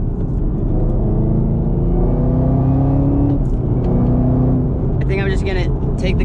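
A Chevrolet Camaro ZL1 1LE on a drive to a shop gives a steady, loud engine drone with a deep rumble that swells and settles as it cruises and accelerates.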